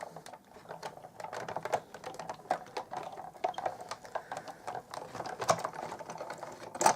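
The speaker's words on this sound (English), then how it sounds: "I'm going to use our Big Shot platform, a cutting plate, our embossing folder with the cardstock, and a cutting plate on top. And we'll just crank that through the Big Shot." Cardstock in an embossing folder, sandwiched between cutting plates on a platform, being hand-cranked through a Big Shot die-cutting machine, giving a steady run of quiet clicking, ratcheting taps with no talk.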